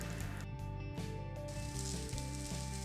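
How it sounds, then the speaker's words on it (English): Butter sizzling in a pan while it browns, before olive oil goes in, heard as a steady close crackle and hiss with a constant hum beneath and a few soft clicks. "Just allow the butter to cook out a little bit."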